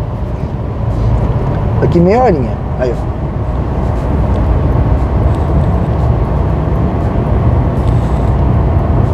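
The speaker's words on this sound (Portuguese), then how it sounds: "Bastante carro, né?" Dense road traffic on the way to Santos rumbles steadily in a low, continuous wash from inside a moving vehicle, with someone speaking over it.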